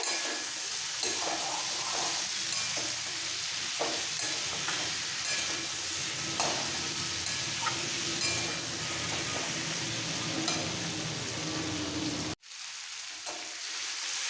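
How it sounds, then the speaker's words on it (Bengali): Spinach and vegetables sizzle and crackle steadily as they are stir-fried with green chillies and ginger in a hot pan, a close, continuous hiss that breaks off briefly near the end. "এইভাবে কষাতে কষাতে সবজিগুলো ভালো করে ভাজা হয়ে গেছে"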